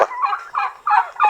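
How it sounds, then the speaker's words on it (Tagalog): Several farm turkeys gobble in four quick, close bursts, loud and alone. "16 pa pala yung pabo."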